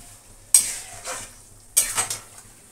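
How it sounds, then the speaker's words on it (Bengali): Mutton being stir-fried for kosha in a pan with cumin, chili, coriander and tomato paste, two sharp sizzling bursts as the meat is stirred and turned, each fading into a softer hiss, with a faint low hum beneath. "তবে মাংসটা কষানো হোক"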